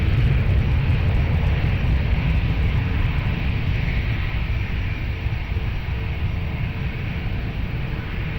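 Airliner taking off from runway 20 at Lisbon Airport: a steady, loud broadband engine roar that holds throughout, with no voices.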